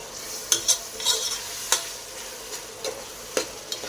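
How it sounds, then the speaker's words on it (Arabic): Onions sautéing in a pan for Egyptian mahshi stuffing, with a soft, steady sizzle beneath sharp, intermittent scrapes and clinks of a spoon stirring against the pan. "بدأنا في التسبيكه"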